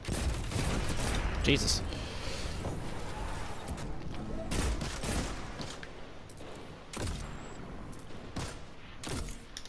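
Scout rifle gunfire in Destiny 2 PvP, with sharp shots picking off targets at range, spaced irregularly across the stretch over a busy background of game effects, while a player talks over it.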